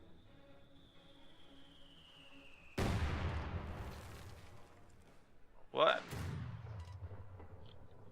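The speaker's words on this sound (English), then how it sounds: "I heard an explosion." A single explosion in the real-time strategy game Company of Heroes 2 lands as a sudden loud broadband blast, then rumbles and decays over a few seconds, followed by a second sharp hit; a voice speaks briefly between them.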